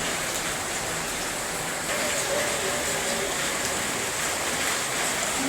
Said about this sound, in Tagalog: yung sitwasyon ng panahon dito maulan pa rin